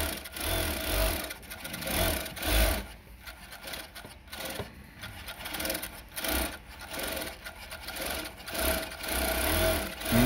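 A Juki or NewTech coverstitch sewing machine stitches through three layers of fabric with a rapid, continuous mechanical whir. The motor runs in surges that speed up and ease off, close by and with no talking.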